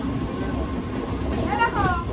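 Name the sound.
local train passing ahead of the express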